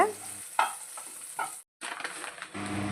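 Green chillies frying with salt in a pan, a steady sizzle broken by a few louder crackles and stirring scrapes, briefly cutting out before the hiss resumes.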